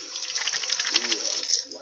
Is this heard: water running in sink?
yes